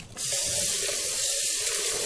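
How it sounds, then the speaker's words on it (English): Soapy water pours and splashes steadily over a Vitamix blender lid as it is rinsed, giving a loud, continuous sink-like rush that starts abruptly and runs without a break. "Pour the soapy water over the lid and rinse well."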